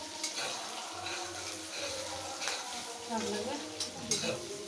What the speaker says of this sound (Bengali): এই যে এখন তেলে পেঁয়াজটা হচ্ছে